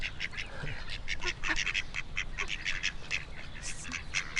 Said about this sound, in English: I've got a little duck tribe coming to visit me as well.